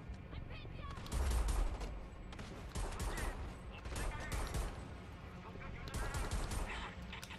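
Rapid gunfire bursts from the Homefront: The Revolution video game, loud and continuous across the whole stretch, with a spoken voice over the shooting.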